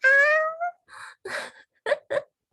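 A pet cat meowing indoors: one long, drawn-out wavering meow, then three shorter clipped mews with brief pauses between them, close and fairly loud.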